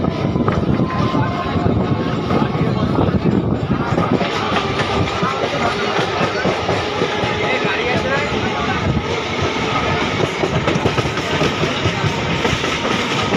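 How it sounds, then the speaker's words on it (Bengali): A train pulls out of a crowded station, its steady rumble and wheel clatter loud and continuous, with passenger chatter mixed in throughout. "তো ছেড়ে দিয়েছে ট্রেন।"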